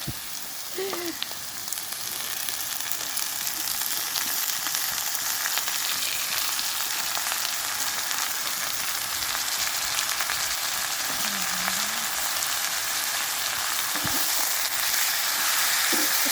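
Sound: potatoes frying for breakfast aloo bhaji

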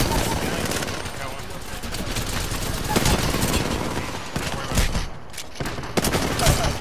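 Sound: gunfire in the video game Apex Legends

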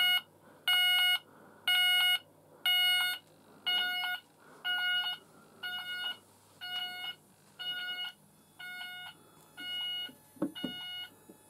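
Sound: S2 sounder find device alarm beeping during system test

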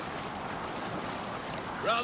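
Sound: boat sailing on the sea in Assassin's Creed Valhalla video game

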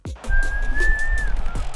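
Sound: person whistling

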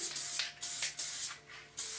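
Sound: Elmer's spray adhesive being sprayed from a can

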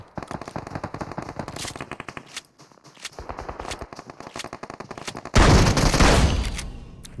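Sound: shotgun firing in a video game

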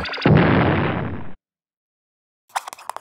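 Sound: explosion

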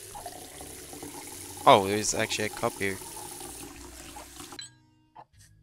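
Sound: water running and pouring in video game Size Matters

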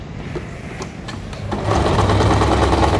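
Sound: sewing machine stitching elastic into trouser waistband

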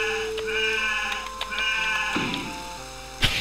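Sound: sheep bleating in the video game Wolfenhain

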